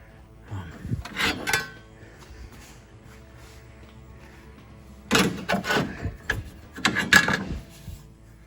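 Metal filing and rubbing on a car's quarter cap being fitted, heard as two bursts of scraping strokes, one early and a longer one later, separated by a quiet pause.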